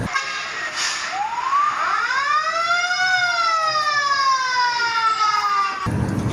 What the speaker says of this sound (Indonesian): ternyata ini ada mobil damkar